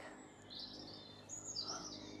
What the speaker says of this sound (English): So you can hear them, the chicks chirping away in there when the parents come back.